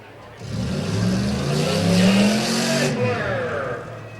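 A 1999 Oldsmobile Aurora roars along in a rough truck race at a Medina County event, its engine note rising and holding loud for several seconds before fading, with a steady wash of motor noise throughout.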